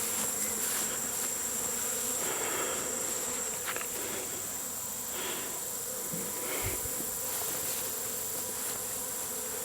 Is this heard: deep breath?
no